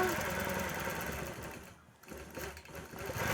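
Gammill longarm quilting machine stitching a Harley T-shirt quilt, a fast steady mechanical whirr that pauses briefly midway and then resumes.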